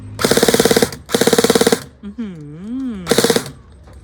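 Three rapid bursts of full-auto fire from a SCAR-L airsoft rifle, each lasting under a second, with a brief voice between the second and third bursts.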